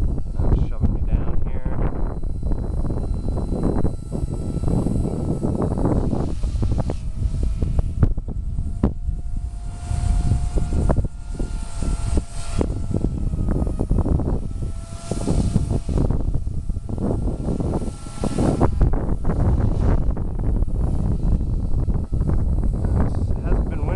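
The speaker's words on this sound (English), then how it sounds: "Wind at my back there kind of shoved me." Wind gusts buffet the microphone in a continuous rumbling roar during 3D flight of a 4F200 RC helicopter outdoors, with the model's motor whine faintly audible beneath.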